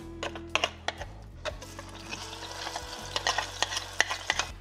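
Chili paste frying in a spoonful of lard on a stove for Oaxacan mole negro, with scraping spoon strokes and soft sizzling, close and fairly quiet, with irregular clicks of stirring.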